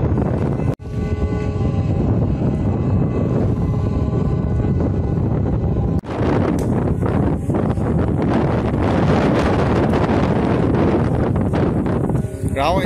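Strong, gusty storm wind roars and buffets the microphone while two small black flute kites fly outdoors. The rush is loud and continuous, with a faint tonal whistle in the first half.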